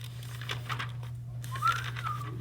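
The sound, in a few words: someone whistling in a classroom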